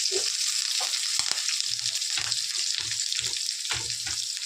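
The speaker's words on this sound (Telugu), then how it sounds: "తర్వాత కొద్దిగా కరివేపాకు ఉల్లిపాయలు పచ్చి వేస్తాను, ఇది బాగా వేగాలి." Curry leaves and chopped onions fry in hot tempering oil with mustard seeds and cumin, a steady close sizzle with small crackles and soft stirring scrapes, and no voices.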